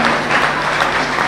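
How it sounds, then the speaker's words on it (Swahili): An audience applauds a bishop at a memorial service, a dense, loud, steady wash of close clapping from a crowd. "Appreciate the bishop kwa makofi."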